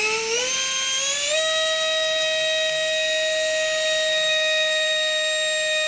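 An electric motor spins a propeller on a thrust test rig, a loud whine that rises in pitch as it spins up, then holds steady and constant.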